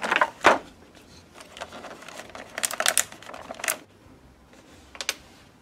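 Plastic ties are cut off a boxed Fisto Masters of the Universe action figure, with a few sharp snips and crinkly plastic rustling up close in short clustered bursts.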